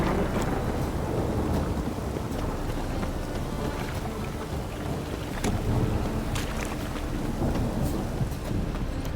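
Heavy rain pours steadily throughout The Witcher 3 game scene, with sharp crackles of thunder breaking through the constant wash of water.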